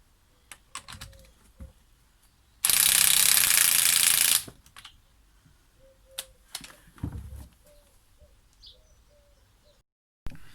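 A cordless drill with a flat battery whirs in one loud burst of about two seconds, then cuts out, with scattered clicks and faint bird chirps around it.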